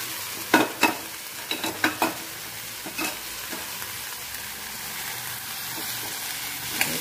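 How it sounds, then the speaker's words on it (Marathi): Chopped dill, colocasia and sorrel leaves are sautéed in a pan over low heat, with a steady sizzle and repeated scraping stirs in the first few seconds, then quieter frying alone. "छान परतून घेऊ."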